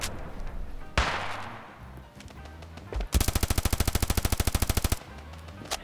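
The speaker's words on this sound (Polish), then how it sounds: "Nie, no z Glocka mnie strzela." Rapid pistol gunfire from a Glock in the mobile shooter Standoff 2, a loud burst of about twenty evenly spaced shots after scattered earlier shots and game sounds.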